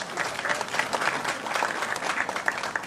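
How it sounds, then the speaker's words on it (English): An audience at an outdoor event in Gandhi Village, Debe breaks into dense, steady applause for keyboard player Rishi Gandhi, many hands clapping at once for about three seconds. "Give him a round of applause."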